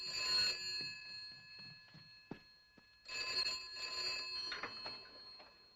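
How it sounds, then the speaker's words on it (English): The mechanical bell of an old telephone rings in two loud, metallic, trilling bursts, separated by a short pause with faint clicks and knocks. "the old phones had real bells in them"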